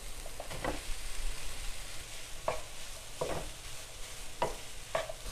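Paneer cubes stirred into thick masala gravy in a pan, with a steady low sizzle and several distinct scraping strokes of the spoon spread across the clip, no talking.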